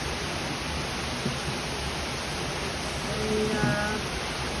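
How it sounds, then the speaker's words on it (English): Heavy tropical rainstorm pouring down in a steady, dense roar that never lets up, with a faint voice briefly surfacing near the end. "just to let everybody have a moment of how intense the rain is."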